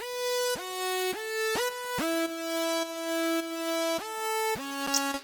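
A bright, buzzy synthesizer lead made of Serum stacked with Razor plays a short melodic phrase, the notes sliding into one another, close and sustained without any voice.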